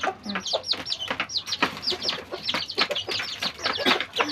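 Bantam chickens and growing chicks cluck and chirp close by in a busy, overlapping stream of short calls, with no speech.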